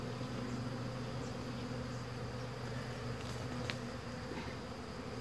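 Honey bees swarm around a hive, their droning buzz steady and close, filling the whole stretch without pause.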